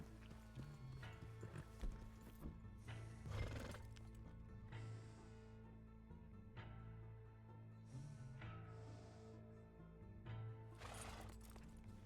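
A horse in a Western roleplay video game whinnies and snorts as its hooves clip-clop, faint and intermittent against a low steady hum. Several short bursts of neighing and breathy snorts come and go, and no one speaks.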